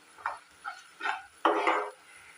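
Spoon scraping and stirring spice masala of garam masala, turmeric and red chili in a pan for an Assamese paneer curry, four separate scrapes growing longer and louder, close up and alone.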